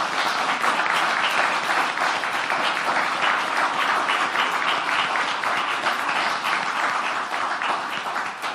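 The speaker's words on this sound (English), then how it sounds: "A big round of applause for them." Loud, sustained applause from a seated crowd at a government legislation announcement, dense even clapping filling the room for over eight seconds before tapering slightly.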